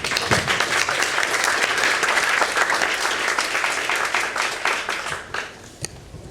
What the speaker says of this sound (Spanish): eu pediria uma salva de palmas